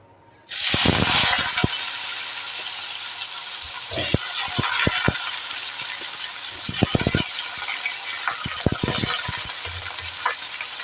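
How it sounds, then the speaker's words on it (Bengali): Long-cut potato strips drop into hot oil and burst into a loud, steady sizzle that hisses on, broken by sharp clinks and scrapes of a spatula stirring in the pan. "বেগুনের মতোই আলুগুলোকে আমি এবার ছেড়ে দেব আলুগুলো প্রথমে লাল লাল করে ভাজা করে নেব"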